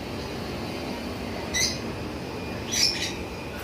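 Pet lutino and red-eye birds give two short squawking calls, one after the other, over a steady background hum.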